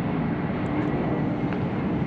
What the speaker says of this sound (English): you can hear a cargo plane taking off in the background